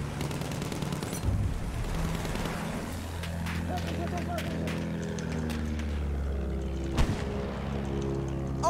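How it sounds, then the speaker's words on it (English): AA rocket fire in a Battlefield match on the Zeebrugge map: repeated sharp blasts and booming launches over a steady rumble of engines and combat, with a louder crack near the end and voices underneath. "It's an AA rocket."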